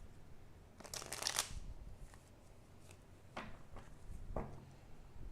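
Tarot cards being shuffled close by, a few quick riffling bursts with short pauses between them, fairly quiet.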